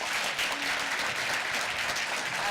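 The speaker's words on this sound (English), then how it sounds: "Round of applause for" A student audience applauds steadily at the close of a student government presidential debate, a dense, even clapping that fills the room throughout.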